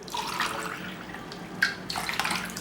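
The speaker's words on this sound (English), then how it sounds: "I'm going to add some water to the bowl." Water runs steadily into a bowl in a home kitchen in Thailand while cooking green chicken curry, a close splashing pour with a brief louder gush near the middle and again toward the end.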